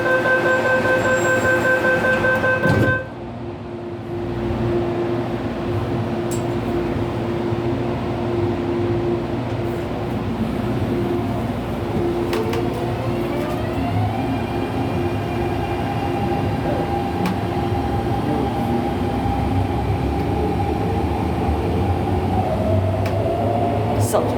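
An MTR Airport Express A-train in Hong Kong runs at speed, a steady rumbling interior roar with a rising motor whine, after a brief electronic chime at the start.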